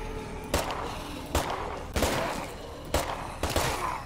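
Five distinct gunshots crack out at irregular intervals in State of Decay 2, each a sharp burst over steady low background rumble, moderately loud with no overlapping talk.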